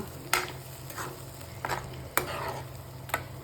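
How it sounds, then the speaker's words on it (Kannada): Ground green masala for palak paneer frying in a pan, several distinct spoon scrapes and knocks spaced irregularly over a steady low sizzle, close up. "ಈಗ ಈ ಮಸಾಲೆನ ಸ್ವಲ್ಪ ಫ್ರೈ ಮಾಡ್ಕೊಳ್ಳೋಣ"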